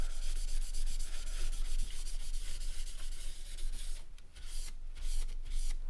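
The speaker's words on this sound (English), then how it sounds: "just get a clean bit, and then just rub over, make sure you've got any excess off" A cloth rubs polish off the fretboard of a vintage VS6 SG guitar in quick repeated strokes, a close, bright scratchy swishing that changes into firmer separate wipes toward the end.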